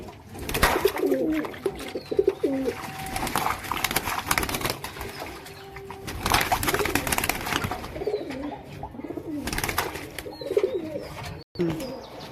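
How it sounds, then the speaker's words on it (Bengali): Pigeons bathing close by, with repeated bursts of splashing and wing flaps mixed with soft, throaty cooing throughout. "পায়রা মোটামুটি চান করা শুরু করে দিয়েছে"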